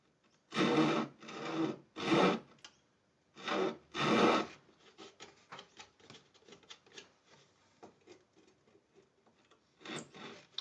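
A small hand saw cutting a slot in wood for a custom guitar, several rasping back-and-forth strokes in bursts, followed by lighter quick scratchy strokes, close and clear.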